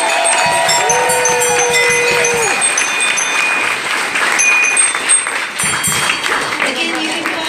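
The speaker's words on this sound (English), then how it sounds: "how about we get one more round of applause for Sister in the first time?" A live radio studio audience at a bluegrass-style session applauds continuously, the clapping blended with lingering sustained tones and a speaking voice over it.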